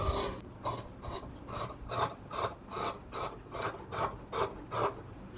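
Fabric for children's pants is trimmed close by in about a dozen even, rhythmic rasping cuts that repeat at a steady pace with no talking.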